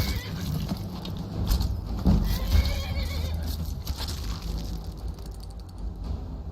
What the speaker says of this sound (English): my reindeer neighs like a horse